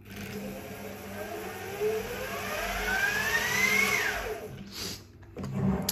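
The electric motor of a Nexus-XR RC helicopter spools up, a rising whine that climbs steadily in pitch over a few seconds before levelling off and briefly dropping, heard close with no talking.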